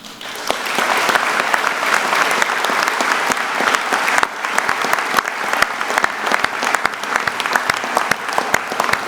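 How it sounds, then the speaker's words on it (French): An audience at a New Year's ceremony applauds student musicians from the Arras conservatory, a dense, steady round of clapping from many hands that lasts throughout at a moderate distance. "Je voulais qu'on les félicite, qu'on puisse peut-être les applaudir."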